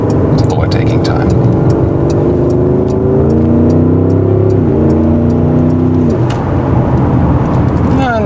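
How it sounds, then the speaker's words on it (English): Porsche Cayenne Turbo Coupé engine pulling hard while overtaking on a road through wine country, a loud rising drone with shifting pitch sweeps and a gear change midway, with faint bird chirps above. "In this case, it's really good to have a powerful engine because then the overtaking process also goes quite quickly"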